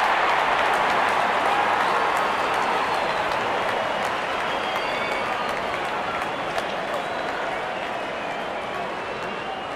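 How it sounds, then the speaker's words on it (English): A stadium crowd in the Real Cricket 24 game, England v South Africa at the T20 World Cup, cheers in a continuous, dense roar that fades slightly over time, with a commentator's voice under it. "Openers walking in and the crowd cheering in anticipation."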